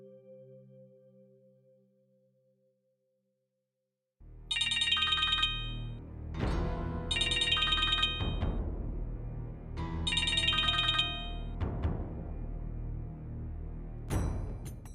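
A phone ringtone plays in loud, repeating melodic bursts, ringing alone with no talk, after a few seconds of quiet fading background music.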